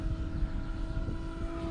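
Decathlon 40 RC model airplane, a 60-size plane, flying with a steady, droning engine tone that holds constant pitch throughout, moderately loud and alone with no talk.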